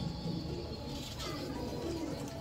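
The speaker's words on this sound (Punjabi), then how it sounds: "ਬਹੁਤ ਗੁੱਸਾ ਕਰਦੇ ਕਬੂਤਰ ਸਰ" Pure Habshi pigeons cooing agitatedly on a rooftop loft, a low throaty coo under steady background hiss, faint and partly masked by ambient noise.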